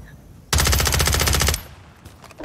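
Rapid automatic gunfire in a video game, a loud continuous burst of about one second that stops abruptly, followed by quieter game ambience.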